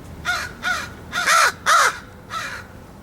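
A crow caws close by in five loud, harsh calls spaced about half a second apart, with the middle two strongest and a softer final caw.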